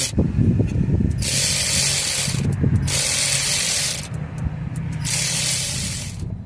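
A hand ratchet clicks in three bursts as a hose clamp is tightened on an Isuzu NPR/NRR diesel truck during a boost leak check, close and loud with brief pauses.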